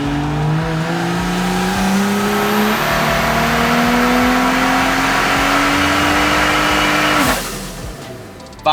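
Tuned BMW F30 335 engine on a dyno run, a loud sustained pull with pitch rising steadily through the gears for about seven seconds, then cutting off abruptly and winding down.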